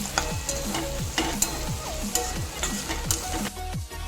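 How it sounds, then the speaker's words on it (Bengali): Chopped onions fry in hot oil for a chicken curry, a loud close sizzle broken by regular rhythmic stirring scrapes about every half second. "এরপর দিয়ে দিচ্ছি কেটে রাখা পেঁয়াজটা দিয়ে খুব ভালো মতো লাল লাল করে ভেজে নিচ্ছি।"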